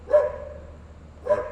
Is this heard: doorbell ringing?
no